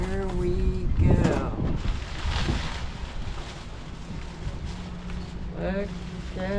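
Steady outdoor wind in Titusville, Florida rushes and buffets the microphone throughout, forming a constant broadband roar beneath someone talking.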